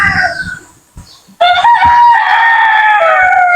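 A four-year-old Boston-breed gamecock rooster crows loudly and close, a long sustained call that follows a few brief clucks and scuffles.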